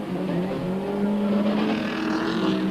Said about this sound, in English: The main event, and Harkes slow off the line. Piazza Musso had a great start and immediately slotted into the lead